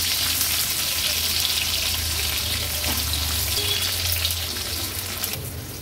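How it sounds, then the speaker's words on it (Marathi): A large onion, sliced lengthwise, fries in hot oil with a loud, dense, continuous sizzle that holds steady throughout and eases slightly at the end. "आता कांदा तेलावर छान परतून घेऊया"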